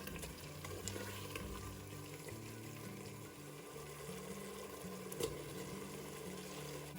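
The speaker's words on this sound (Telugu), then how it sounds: "ఇలా రైస్ వేసుకున్నాక మొత్తం ఒకసారి కలుపుకోండి." Rice being stirred in a pan for potato capsicum rice gives off a steady soft scraping and gentle sizzle, continuous and fairly quiet with a low hum underneath.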